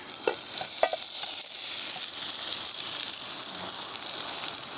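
Salmon frying in a pan outdoors on a beach at sunset: a steady, loud, close sizzle and hiss of oil, with a few soft clinks of stirring near the start and no talk.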